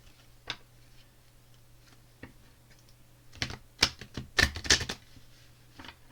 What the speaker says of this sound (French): Allez, on mélange rapidement